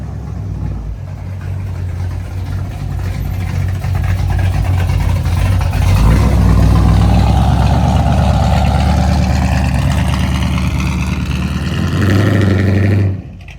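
A square body truck headed back to North Carolina drives past, its engine rumble swelling loud and close as it passes, then cutting off abruptly at the end with no talk over it.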